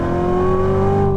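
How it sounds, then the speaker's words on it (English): A Chevrolet C7 Corvette Z06 supercharged V8 with a manual gearbox revs during a downshift rev match, a loud, steady, close engine drone with a rising pitch. "as I do a terrible rev match"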